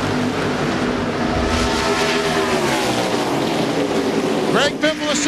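NASCAR stock cars roar past at speed during the 2001 MBNA.com 200 Busch Series race, with a loud, continuous engine drone whose pitch sweeps as the cars pass, and a commentator talking over it.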